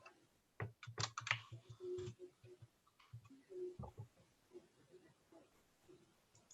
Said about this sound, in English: Oh, she's back to typing.